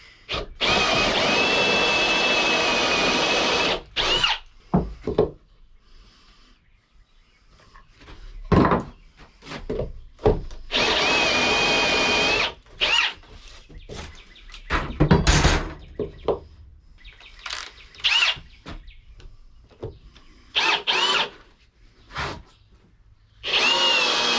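A power drill whirs through timber-frame shed wood in two long bursts and several shorter ones, close up, with knocks, clatter and handling noises between runs.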